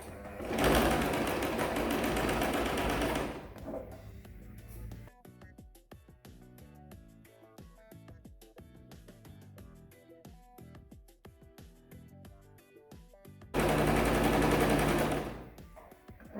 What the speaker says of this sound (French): Et on pique sur le bord à quelques millimètres.